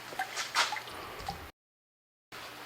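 Water dripping and splashing as tumbled rocks are rinsed, a soft run of small wet drips and squishes at low volume, then a sudden cut to silence before faint sound resumes.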